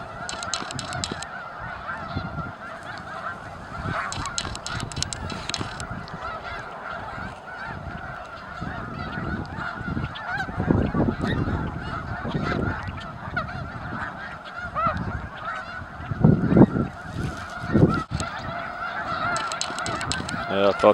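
A large flock of snow geese honks continuously, a dense overlapping chorus of calls that swells louder as birds lift off, heard outdoors at a distance.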